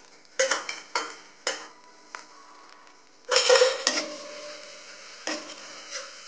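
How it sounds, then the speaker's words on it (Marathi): Crushed garlic goes into tomatoes frying in a pan over a medium flame, giving a few sharp clinks and taps followed by a louder burst of sizzling and stirring, then softer scattered clicks, with no talking. "आता आपण टाकूया हा ठेचलेला लसूण."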